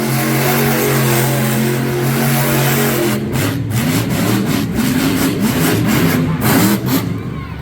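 Monster truck engine revving hard as the truck spins donuts in an arena, loud and continuous, with a steady low drone at first that breaks into rough, surging revs and crowd-like noise.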